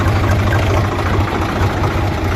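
A tractor idles as it pulls away from a loading site, its low diesel throb steady and close, with a faint rattling vibration and no voices.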